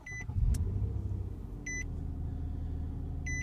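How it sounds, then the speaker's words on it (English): A 2014 Nissan Maxima starting up: an engine catch and rumble settling into a low steady idle, with two sets of electronic chimes, one midway and one at the end, close by. "Let me see if I can actually turn the car on here so you can see the gauges."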